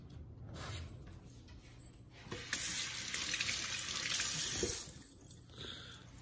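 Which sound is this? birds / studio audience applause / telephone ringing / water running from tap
water running from tap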